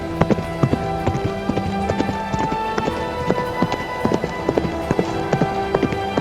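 Horse hooves clip-clop steadily in an Assassin's Creed audio fanfic roleplay, a loud, regular rhythm of hard strikes running throughout, with a faint voice now and then beneath.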